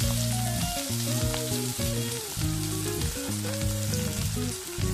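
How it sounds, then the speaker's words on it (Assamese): Onions go into hot oil with green chilies and fry with a continuous close sizzle, while a steady melodic tonal pattern plays over the frying. "পিঁয়াজখিনি দি মই ইয়াত এতিয়া ভালকৈ ভাজিম।"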